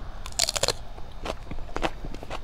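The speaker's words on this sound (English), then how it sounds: "The crunch on that is just amazing." Someone bites into a raw Sugar Rush Peach x Poblano pepper, making crisp, close crunches followed by several sharp chewing crackles spaced across a few seconds.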